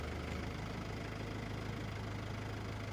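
A tractor engine idles with a steady low rumble and faint knocking throb while backing slowly into a tight shed, constant and close with no talk.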